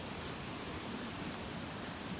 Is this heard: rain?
yes